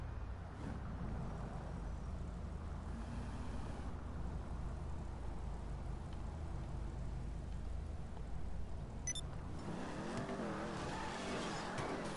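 A video-game car pulls hard from traffic lights, its engine building into a loud sustained roar that climbs and then drops into a rising, wavering rev after a shift near the end.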